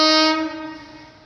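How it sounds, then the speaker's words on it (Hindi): Horn of the Jan Nayak Express passenger train, a loud close blast that fades over about a second, with no talk. "it's a Jannayak express"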